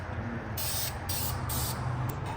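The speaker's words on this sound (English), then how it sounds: "A little spray paint to look good as new." Short hissing bursts of a spray paint can, about four quick sprays in a row, close and fairly quiet.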